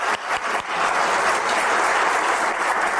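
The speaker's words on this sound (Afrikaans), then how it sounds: "Ek dink ons kan daarvoor 'n hande klap gee." An audience claps at an opening-night event, a loud, dense and sustained round of applause that swells quickly and holds steady to the end.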